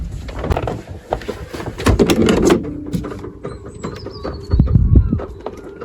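The door of a camper van is opened at a campsite in Flanders. There are a few knocks and a sliding rumble, heard close over outdoor background noise and faint voices.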